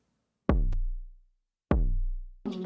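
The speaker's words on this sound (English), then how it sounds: "Where our actual kick sounds like this." Two deep, booming kick drum hits about a second apart, each with a long low decay, followed by the start of another sound.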